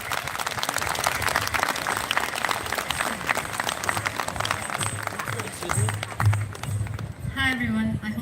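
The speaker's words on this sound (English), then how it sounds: "please give a big round of applause for Subhashini Goda" A big round of audience applause at an India Day 2022 gathering, dense and steady clapping that fills the room for several seconds before a voice enters near the end.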